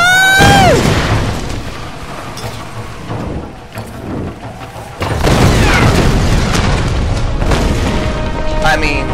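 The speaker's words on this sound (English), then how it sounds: "Explosions are always fun." Loud booming grenade blasts in Tomb Raider, one sharp explosion early followed by rumbling and a second heavy burst, with crackling debris and a voice speaking over it.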